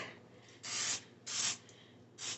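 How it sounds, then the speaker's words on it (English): Three short hissing bursts of non-stick cooking spray onto a pan, each lasting about a third of a second, separated by brief pauses, close by and fairly quiet. "Spray with a little non-stick."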